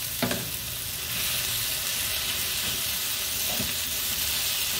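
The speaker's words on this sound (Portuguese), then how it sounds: "vamos deixar ele fritar um pouquinho também, para dar uma murchada" Cherry tomatoes frying in olive oil in a pan, with a strong, continuous close-up sizzle and crackle and a couple of soft utensil knocks near the start and toward the end.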